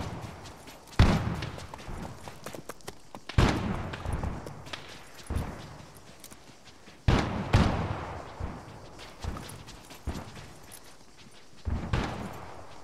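Artillery in an Arma 3 battle set in the First Boer War at Laing's Nek booms repeatedly, with several heavy blasts at irregular intervals, each trailing off into rumbling echoes.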